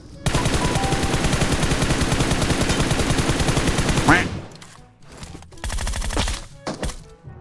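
Sustained automatic gunfire in PUBG Mobile as a full magazine is emptied, a dense, loud, rapid stream of shots for about four seconds, then quieter scattered game sounds and a second shorter burst.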